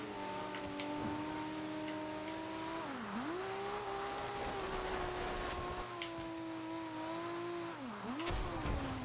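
Nissan Skyline GTR in Forza Horizon sliding through a skid, a steady engine drone with whining tire tones that dip and bend as the car loses grip, heard twice, moderately loud and alone.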